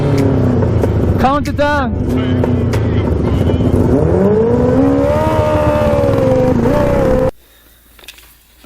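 Two shifter kart engines, 500cc and 550cc, rev hard side by side, loud close buzzing climbing and falling through gears with brief speech over the top, then cutting off abruptly to near silence.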